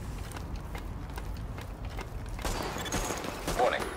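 Bursts of gunfire in the video game The Division, a dense fusillade with mechanical clatter that swells toward the end, heard over continuous background game noise.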